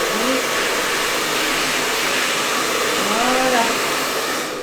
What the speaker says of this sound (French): Vous prenez le sèche-cheveux, voilà, donc ça va faire un petit peu de bruit.